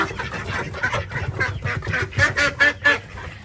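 Farm ducks quacking and honking as they are let out of their pen, a busy run of repeated calls rising in a loose rhythm, close and clear.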